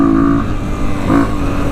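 A 1988 Honda XR200 dirt bike engine running on a wooded single-track trail, a loud, close motor note with two rising revs and a steady throaty idle between them.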